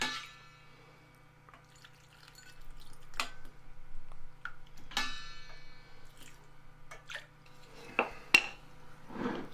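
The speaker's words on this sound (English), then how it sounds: "spoon in the liquid and leave about half an inch at the top" Pickling liquid spooned into jars of Mexican pickled carrots: a series of close, faint drips, splashes and small clinks against glass and metal, irregular and unhurried over a quiet background, with a few sharper taps near the end.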